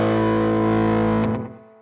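Electric guitar played through the Milkman Creamer amp plugin, a single loud distorted chord ringing out with rich sustain before being choked off and fading.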